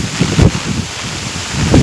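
Heavy rain driven by a windstorm sweeps over flooded farmland, a loud constant wash of noise with heavy low wind buffeting against the microphone in bursts.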